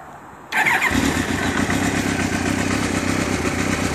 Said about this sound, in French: Donc je vais vous mettre le moteur en route.